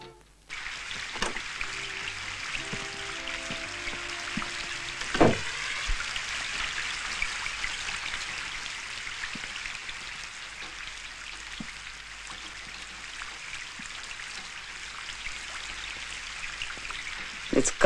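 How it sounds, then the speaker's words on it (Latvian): Steady rain patters and hisses outdoors, constant and moderately loud, with occasional closer drips and a brief knock partway through. "Līdz kaklam apnicis tas lietus."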